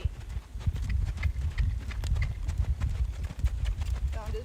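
A Rocky Mountain horse moves in its saddle gait, hooves clip-clopping in a quick, even four-beat rhythm on the ground, close by and moderately quiet, with faint background noise and no clear talk.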